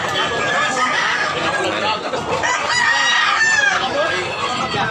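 Kanawayon roosters crow repeatedly among clucking, chattering chickens at a poultry market in Tabunok, Cebu, with people talking in the background throughout.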